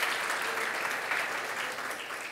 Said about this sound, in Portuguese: Vamos aplaudir pela vida desse homem